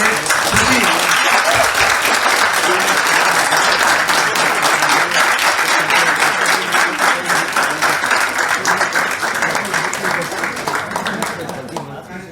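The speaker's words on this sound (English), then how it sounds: "can you give a huge round of applause for our host of the day" Audience at a university interactive session applauding loudly and continuously, dense clapping that holds steady and then tapers off toward the end.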